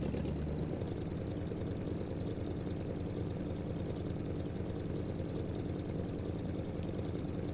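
A stroker engine in a custom car idles in the BeamNG driving game with a deep, steady, rumbling lope, continuous and fairly loud with no other sounds.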